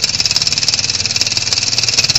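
A homemade model steam engine, tested in a workshop with polished top beams, runs with a fast, steady mechanical chuffing rhythm, close and fairly loud, with a hissing high whir over regular low pulses.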